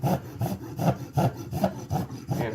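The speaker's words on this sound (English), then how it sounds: "I'm getting pretty aggressive with the trim here at the toe, taking off a lot of material" A rasp or hoof knife working hard on the toe of a horse's hoof during a maintenance trim, producing steady, rhythmic scraping strokes about twice a second, close and fairly loud with no voice over it.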